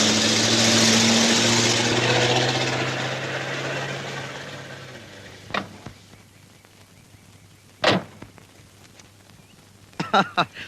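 An old petrol car's engine idles loudly at first, then fades to a low steady hum while several sharp clicks or knocks sound near the end.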